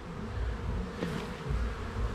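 Honeybees buzz steadily and fairly loudly throughout a beehive inspection during a hive split, a continuous dense drone with no voices.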